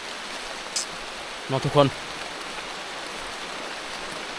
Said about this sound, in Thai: เบิ่งนี่ทุกคนฝนก็เริ่มตกอีกเด้